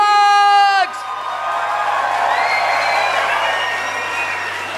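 After a brief held vocal note, a concert audience erupts in cheering and whooping, a sustained crowd roar with mixed shouts.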